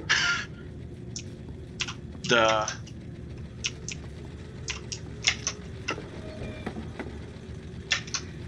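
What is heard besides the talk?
computer keyboard keys pressed while playing a game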